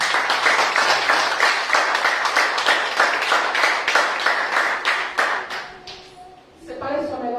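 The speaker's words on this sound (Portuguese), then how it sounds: "Dê mais um aplauso ao Senhor." A church congregation claps steadily in rhythm for several seconds, loud and close, then the clapping breaks up and fades as a voice begins.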